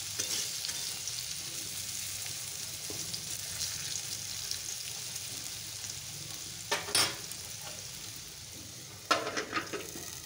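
Small potatoes frying in a pan, a steady close sizzle under occasional scraping stirs and a couple of sharper clatters of the utensil against the pan toward the end.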